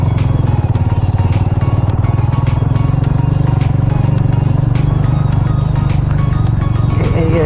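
MMC MX150r and Rusi Titan motorcycles riding over rough off-road ground, a steady loud engine drone with rattling and clatter from the bikes, with a voice briefly heard near the end.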